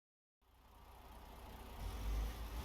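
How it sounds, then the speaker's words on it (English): A truck engine in Euro Truck Simulator 2, heading to Latvia, starts from silence as a low idle rumble and gradually grows louder and deeper over a few seconds, quiet overall, with no voices. "I get the sound. Not too much, but enough that you can hear the engine."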